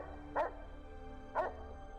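Boston Terrier puppies in the Fallout New Vegas Old World Blues add-on give two short yapping barks about a second apart, fairly near, over a low steady game background hum.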